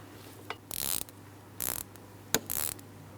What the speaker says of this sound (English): Now with that bolt loosened